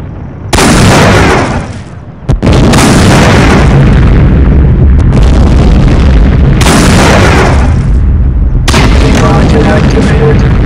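Powerful rocket blasts from a weapon in the shooter game Postal 2, four loud booming detonations with roaring tails, a brief sharp crack between the first two, close and dominant.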